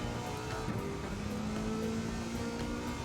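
A DeLorean race car engine in Gran Turismo 7 drones at high revs, its pitch climbing steadily as it accelerates, with no talking.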